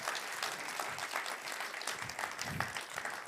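A room full of conference attendees applauds after a talk, a dense, moderately distant wash of clapping that stays even throughout with no voices over it.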